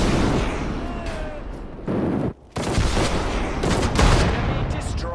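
Sustained battlefield gunfire from the Sudden Strike 4 Battle of Saipan, with dense overlapping shots and booms in a loud continuous barrage, briefly dropping out for a moment before resuming.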